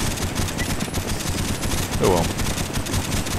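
Rapid FAL rifle fire in a Black Ops team deathmatch on Nuketown crackles in quick bursts among other battle noise, while someone speaks briefly over it.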